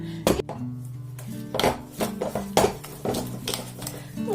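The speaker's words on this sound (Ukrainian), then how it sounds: "Так, воно чудово все перетирається цукор з маслом" A whisk beats butter and sugar with a pinch of salt in a bowl, giving repeated clinking and scraping strokes of metal against the bowl in an uneven, close rhythm.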